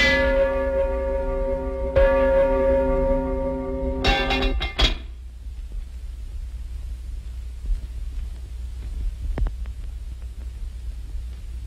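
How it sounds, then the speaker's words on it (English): A large church tower bell strikes a few times with a deep, lingering hum that fades away, followed by quiet outdoor background with faint clicks. "Loudly the bell in the old tower rings."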